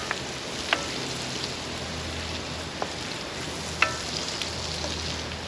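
Onion and pepper sauté slowly in a pan over an open fire, giving a soft, even sizzle with a few faint pops and clicks, no voices over it.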